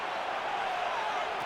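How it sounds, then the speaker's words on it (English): Stadium crowd in the Madden 26 football video game, a dense, steady roar of many voices with faint applause, filling the background at moderate loudness without distinct individual sounds. "A big play here as the crowd noise rises."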